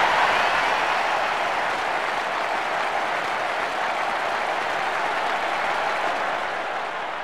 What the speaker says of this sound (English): What a noise. Listen to the crowd.